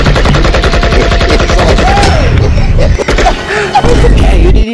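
Gunfire in a comedy animation: rapid, loud, continuous bursts like a machine gun, with cartoon voices speaking through the shooting.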